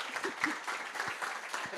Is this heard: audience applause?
yes